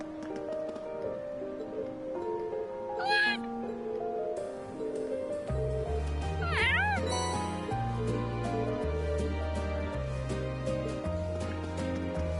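A cat meows twice in the Trails of Cold Steel video game, clear rising cries set over looping game music with a bright melody and a deeper bass line.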